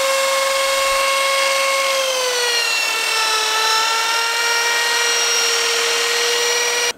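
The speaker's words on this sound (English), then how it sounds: "So I'm gonna get the drill out and get to work on this." A power drill drilling out a bushing on a Porsche 944 whines loudly and steadily, its pitch dipping briefly as it bites into the material, then holding until it stops.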